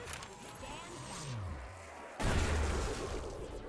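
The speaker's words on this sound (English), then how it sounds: "goddamn is a scavenger freaking cool. It isn't the strongest wonder weapon, but hearing that explosion is just so satisfying" Scavenger wonder weapon explosion in a zombies video game. A heavy boom bursts in about two seconds in, following rumbling game noise, with a voice talking over the action.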